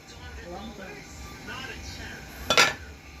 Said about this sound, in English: I just stir the pot.